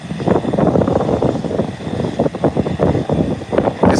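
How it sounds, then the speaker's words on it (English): A Cessna 402 twin-engine airplane touches down, its engines a loud, close rumbling drone that pulses and fluctuates over a few seconds. "This is the Cessna 402. Touchdown safely."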